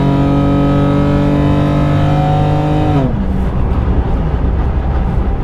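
BMW 325xi running on the highway at close to 60 mph, loud steady engine drone with rising harmonics, then a shift as the pitch drops and broadband road and wind roar takes over.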